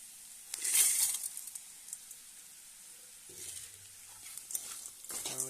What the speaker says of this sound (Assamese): আৰু এড কৰি অলপ লৰাই থাকিম।